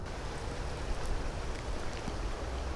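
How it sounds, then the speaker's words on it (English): Steady rain begins falling outdoors during a fishing trip, a dense, even hiss of drops on water and surroundings, close and continuous with no talk. "Oh, the rain's coming. Here it comes."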